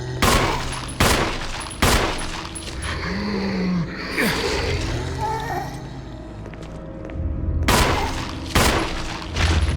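Gunfire from the Resident Evil (2002) video game: loud, widely spaced single shots ring out at intervals against a murky game soundscape, with a low groan and scattered noises between blasts.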